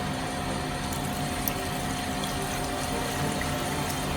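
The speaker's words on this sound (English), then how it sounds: "I'm gonna cover it with water." Steady rushing water pouring continuously into a pan to cover ingredients for bone broth, a full, even splashing hiss that stays constant throughout.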